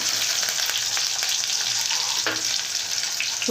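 Curry leaves and onion pieces fry in a pan with a loud, continuous hiss and sizzle that stays steady throughout, with no talk.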